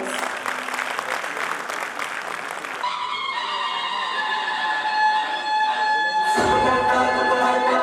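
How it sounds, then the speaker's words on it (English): Audience at a school annual function applauds a performing group, loud sustained clapping filling the whole stretch, with music and tones beginning to sound under it toward the end. "Can we please welcome them with a huge round of applause?"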